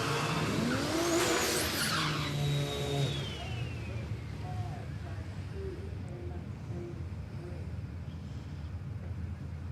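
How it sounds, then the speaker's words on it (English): Drag race car doing a big burnout at Palmyra Raceway, with loud tire squeal and a screaming, rising engine note at first, then a low steady rumble as a commentator talks. "That's why he does big burnouts."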